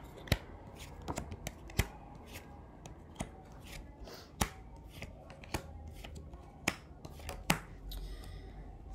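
Tarot cards are shuffled by hand in a quiet room, giving a series of sharp, close riffling snaps at irregular intervals over a soft background hiss.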